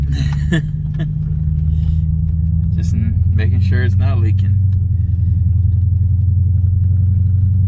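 A car engine idling steadily with a low, constant rumble during a test drive after a fuel leak repair on the injector seals and return pressure regulator line, with someone talking close over it.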